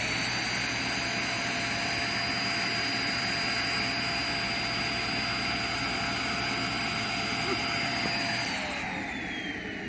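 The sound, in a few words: Sebo Dart vacuum cleaner running, suction at the hose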